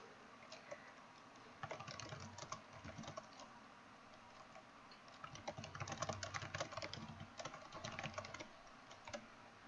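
Fingers type a chat message on a computer keyboard, with irregular bursts of quick key clicks separated by short pauses, close and fairly quiet with no voices.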